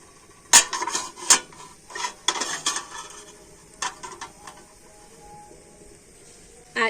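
A metal stand and a cake tin are set into a wok, giving several sharp metallic clanks and scraping knocks, close and irregular, with quieter rattles between and no talk.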